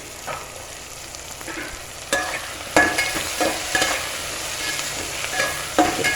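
Thick-cut onions frying in a pan while being stirred, a steady sizzle broken by several sharp scraping strokes of a spoon against the metal, with no talking.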